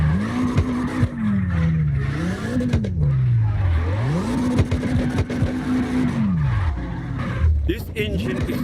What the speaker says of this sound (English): This engine is crazy.